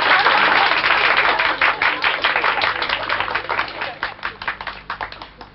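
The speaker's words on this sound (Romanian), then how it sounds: "Aplauze furtunoase, ovațiune." Stormy applause and ovation from a crowd at a public lecture, loud and dense at first and then thinning into separate, rhythmic claps toward the end.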